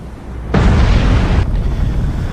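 A torpedo explodes against a submarine in the Cold Waters naval game, a loud broad blast that hits suddenly and roars for about a second before settling into a heavy, rumbling underwater wash.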